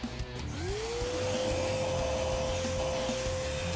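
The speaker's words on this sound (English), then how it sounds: "the biggest blower that I've got is a shop vacuum" A shop vacuum used as a forge blower spins up with a rising whine, then settles into a loud, steady roar running on alone.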